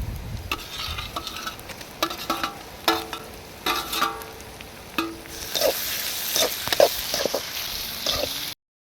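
Onions and tomatoes fry in a pan and are stirred, a steady sizzle broken by rhythmic scraping strokes. The sizzling grows louder and brighter toward the end.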